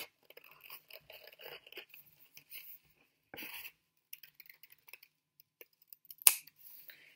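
Scissors snipping around a sheet of folded paper for an art demonstration, a sparse run of quiet, close cuts and paper rustles with short pauses, ending in one sharper snip.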